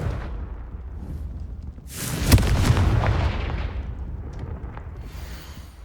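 Confringo blasting spell in the video game Hogwarts Legacy, bursting as a loud, close explosion with a sharp crack and low boom, then a rolling rumble that fades gradually over steady background ambience.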